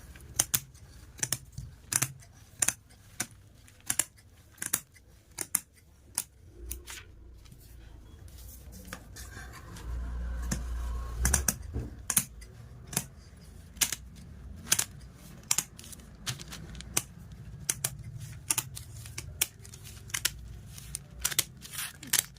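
Scissors cutting lehenga fabric laid over newspaper, a long run of sharp, irregular snips, close and fairly crisp, with a brief low thump partway through.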